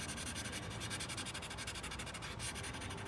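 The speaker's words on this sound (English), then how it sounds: "I just have been using this as my blending stump" A blending stump rubs pencil across paper in steady, fast back-and-forth strokes, a soft, close scratchy friction with no talk.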